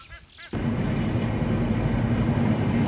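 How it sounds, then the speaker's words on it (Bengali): After a brief quiet moment, a passing train suddenly roars in front of a village house during the rainy season, a loud, steady rumble that fills the rest of the clip. "এই দৃশ্যটি হচ্ছে বাড়ির সামনে যখন ট্রেন যায় তখন দেখতে কেমন লাগে"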